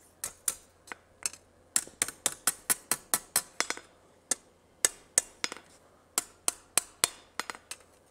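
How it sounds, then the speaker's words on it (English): Hammer blows ring sharply on hot metal while an ornate sign bracket is forged, coming in quick irregular bursts of strikes with brief pauses between them, close and clear with no talk. "Don't want to hammer on that too much."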